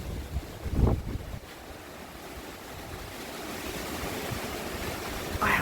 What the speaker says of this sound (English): Listen to this wind.